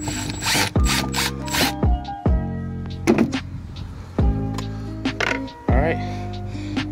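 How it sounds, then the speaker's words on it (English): A ratchet turns out a screw on a Ford E-250 side view mirror, giving loud, close bursts of rapid clicking in repeated strokes separated by brief pauses, with some talk mixed in. "Let's go ahead and remove that screw."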